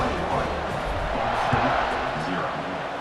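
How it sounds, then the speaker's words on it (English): Home crowd in the EA Sports College Football 26 video game, a dense stadium roar of cheering that swells and holds steady, with commentary voices talking over it. "They got a lot to cheer about here at home."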